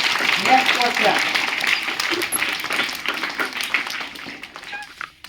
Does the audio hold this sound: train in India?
no